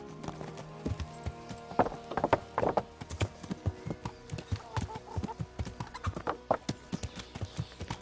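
Steady clip-clop of horse hooves at a walking pace in the video game Kingdom Come: Deliverance, with a brief whinny partway through, fairly quiet and with no talking.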